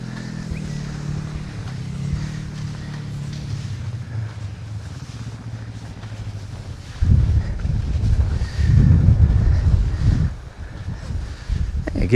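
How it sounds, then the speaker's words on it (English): Steady wind rushes across the microphone while crossing Columbine toward peak 7, a continuous low roar that swells into louder buffeting gusts in the second half. "Get a little wind in the back, that helps."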